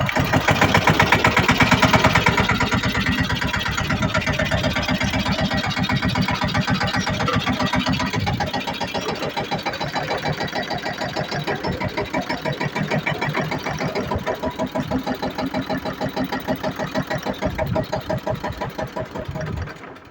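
A tractor engine runs nearby with a loud, steady, rapid chugging beat for the whole stretch. The pitch and loudness ease slightly after the opening seconds, and there is no talk over it.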